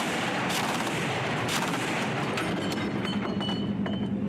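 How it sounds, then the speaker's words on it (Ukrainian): Heavy automatic cannon fire from a ZU-23-2 twin 23 mm anti-aircraft gun in short bursts, loud and close, with rapid repeated reports over a dense roar of echoing noise. "Стріляють короткими чергами, а це означає, що ціль пристріляна"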